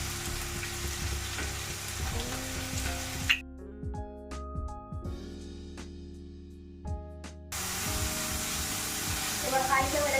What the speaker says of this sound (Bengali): এবার হাই ফ্লেমে একটু ভালো করে ভাজবো